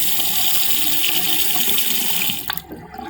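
Water runs at full blast from a bathroom tap into a draining sink, a loud, steady rushing that abruptly cuts off near the end, leaving a few drips and gurgles.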